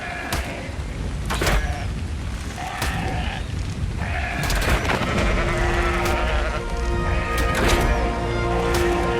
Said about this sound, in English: All kinds of baby sheep out here.